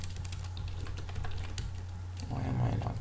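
Rapid typing on a computer keyboard, a close, steady patter of key clicks that carries on without pause, with a brief heavier burst of keystrokes near the end.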